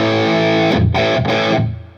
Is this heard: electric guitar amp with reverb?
yes